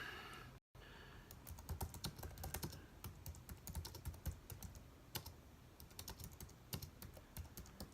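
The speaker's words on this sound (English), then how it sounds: "let me just type in my reply right now." Steady typing on a computer keyboard while composing a reply, a long run of close, crisp key clicks in uneven rhythm with brief pauses and no talking.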